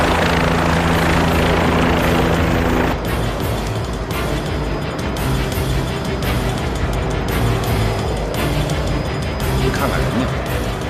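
A helicopter bringing a patient to an emergency centre roars loudly and continuously with a rapid rotor chop, while people talk over the din.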